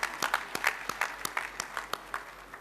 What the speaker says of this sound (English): a grand applause.